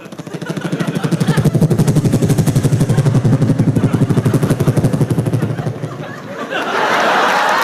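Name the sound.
voice imitating a helicopter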